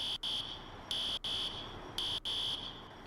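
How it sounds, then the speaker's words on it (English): A fire alarm sounding in the EmergeNYC firefighting video game: a loud, steady electronic tone broken by three short gaps, with no talking. "That's when you pull the alarm."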